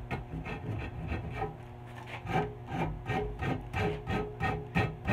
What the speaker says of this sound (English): just using that Stanley tool, and then I'm going to roll